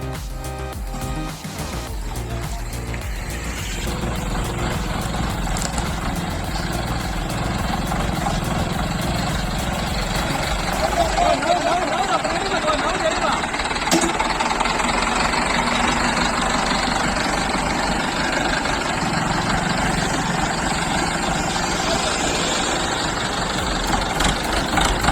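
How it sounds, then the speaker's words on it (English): A red tractor engine labors hard while pulling a blue tractor out of swampy mud, a loud continuous diesel drone with rough low-end rumble that holds for the whole stretch, under a faint background mix. "that red tractor's grinding hard, trying to yank the blue one out of that swampy mess."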